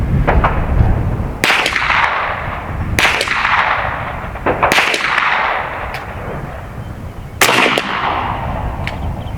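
Shots from a Seneca Dragon Claw .50 caliber PCP air rifle, several loud sharp cracks spaced a second or two apart, each with a fading whoosh, over steady outdoor background noise.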